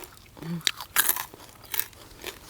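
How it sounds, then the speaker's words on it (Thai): Crispy-skinned Thai roast whole pig tail bitten and chewed, with a few sharp crunches and crackles close to the mic against a quiet background and no talking. "หางกรอบกระดูกตัวนี้ อืม อืมกรอบไปเลย"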